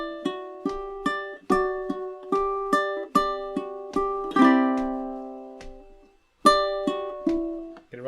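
Ukulele picking the intro of a song, single plucked notes and chord tones in a gentle steady pattern, one ringing strum and a pause before resuming, close and quiet.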